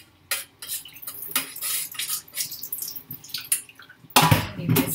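Hot water splashes and trickles into a bowl of noodles for Pad Thai, with clinks and rustles of handling and a louder gush of pouring toward the end, close by and without speech.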